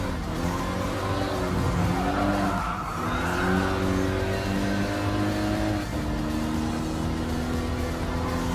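A white Renault Sport race car in Gran Turismo Sport takes a turn, its engine droning steadily with shifting pitch as it eases through the corner, with a faint tire scrub underneath.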